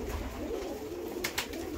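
Pigeons cooing softly at a dovecote, a low murmuring coo running steadily under background noise, with two brief brighter bursts near the end.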